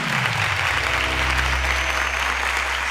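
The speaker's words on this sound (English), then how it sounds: "A round of applause to Aminat, please." Sustained applause from a studio audience greets contestant Aminat on the Cowbellpedia quiz show, a dense, steady wash of clapping that stays loud and even throughout, with a low musical hum underneath.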